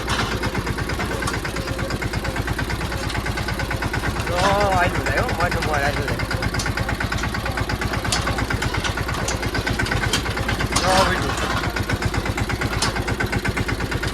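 A tractor in a field where groundnuts are being lifted runs with a loud, steady, rhythmic chug close by, while someone talks over the engine noise.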